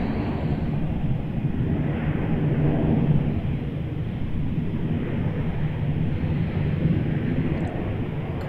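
A Qantas Boeing 737 at Melbourne Airport, a steady broad jet roar and rumble heard from a distance outdoors, holding level throughout with some wind buffeting.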